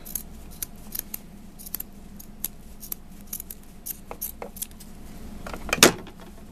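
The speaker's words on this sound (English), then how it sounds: "I have a really raggedy edge, so I'm going to trim this off just a little bit." Sharp scissors trim the ragged edge of doll clothing fabric in a steady run of quick, close snips and clicks, with a slightly louder cut near the end.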